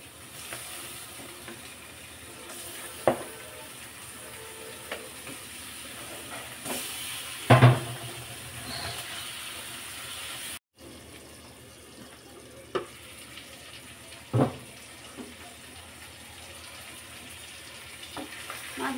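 Pieces of fish sizzle in hot fried spice masala in a pan, a steady close frying hiss broken by a few sharp clinks and scrapes of a utensil, no speech.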